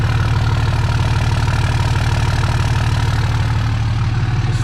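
A 5.9 diesel engine in a 3rd gen truck idles with a steady, deep, rhythmic rumble, loud and close, with no voices over it.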